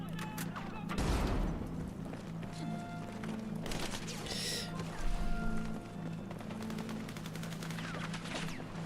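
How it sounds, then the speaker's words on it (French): Video-game combat in Battlefield 6 with a thrown grenade: loud bursts of gunfire and explosive blasts, one heavy blast near the start and another midway, over constant battlefield rumble and a low drone. "J'envoie une grenade."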